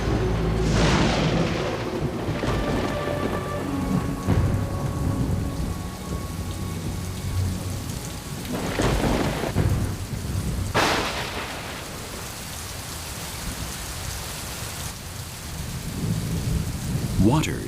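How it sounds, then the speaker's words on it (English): A rainforest thunderstorm: dense, torrential rain hisses steadily throughout while several loud, deep thunder rumbles roll in, one near the start and two more in the middle, with no voices. "Humidity is always provided by torrential rains, storms, mist, or fog."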